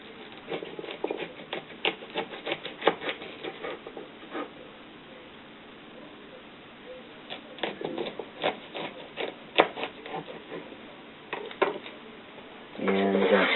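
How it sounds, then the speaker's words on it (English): A knife cuts asparagus spears into thirds on a cutting board, giving a series of light, uneven taps and clicks, sometimes in quick clusters, at a moderate close level. "then we're going to cut these into thirds"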